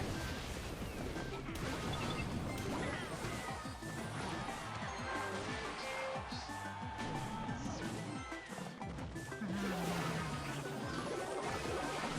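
Mortar shots land in a Clash Royale match in Arena 5 with a run of dull crashing thuds and smashes. They sit among dense game effects and music, all busy and loud, with no voice.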